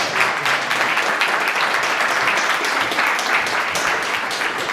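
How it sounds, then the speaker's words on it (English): Dense, sustained applause from a crowd fills the clip at a steady, loud level throughout. "So let's all give Patrick a nice round of applause"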